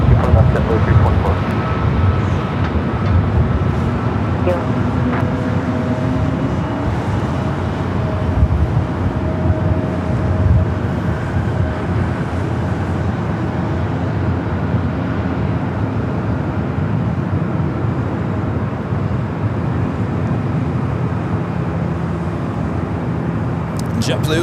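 At LAX, a JetBlue airliner lines up on runway 24 left amid a steady airport rumble of engine noise and a distant whine, while people talk across the scene.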